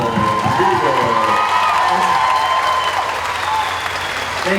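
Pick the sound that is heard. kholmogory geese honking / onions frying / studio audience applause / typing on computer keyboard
studio audience applause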